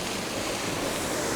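Agitated sea waves churn against a rocky coast on Madeira, a dense, loud, continuous roar of surf with wind rush.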